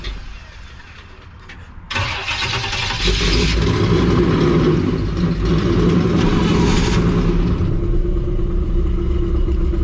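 A 1959 Chevrolet engine fires up after a quiet moment and settles into a steady, fairly loud running drone, with faint background sounds.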